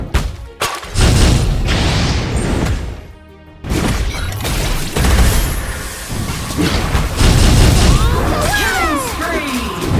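Loud booming explosions and crashes from a turret being destroyed in the mobile game Legend of Ace, mixed with dense battle effects, a brief quiet dip, then more clashing bursts and whooshing sweeps near the end.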